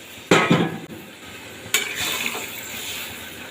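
Warm water poured into a pan of sizzling spiced curry for Bengali dudh sukta, a sharp hiss bursting out at the pour, a second surge partway through, then a steady frying crackle that fades slightly.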